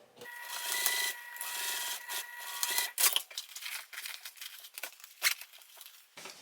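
A sewing machine stitches a fabric pouch closed right along the edge, giving a steady, close mechanical whir with clicks and rustling fabric handling breaking in toward the end.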